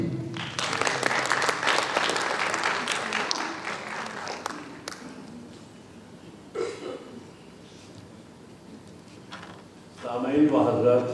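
Audience applause at a staged Urdu poetry performance, dense clapping for several seconds that fades out, followed by quieter room sounds and a voice starting near the end.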